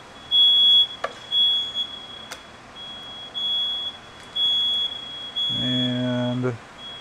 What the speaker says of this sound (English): Always with the fire alarm.